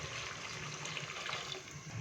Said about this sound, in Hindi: तो अभी मैं इसके अंदर डालूंगा पानी।